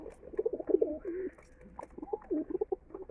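Pigeons coo in soft, repeated throaty phrases close by at a farmhouse loft, with a faint higher chirp now and then.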